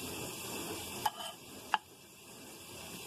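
Burger patties sizzling in a frying pan at home, a soft steady hiss with two brief sharp clinks of a utensil against the pan partway through, no talking.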